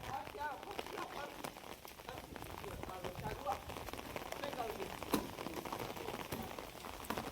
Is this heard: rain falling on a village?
yes